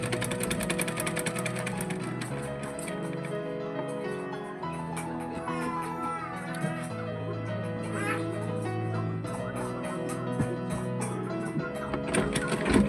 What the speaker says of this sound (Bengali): দেখুন আমি কীভাবে সেলাই করছি।